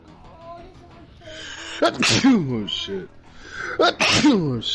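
Two loud, close sneezes, each a sharp burst with a breathy, voiced release, about two seconds apart, with quiet talk and background noise between them.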